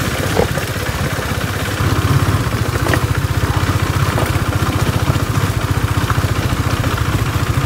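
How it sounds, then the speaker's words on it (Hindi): A KTM Duke 250 motorcycle engine with a heating issue runs in third gear, a steady, close, rapid mechanical throb that grows louder partway through and carries on with no speech. "अभी हमारी बाइक जो है थर्ड गियर में चल रही है"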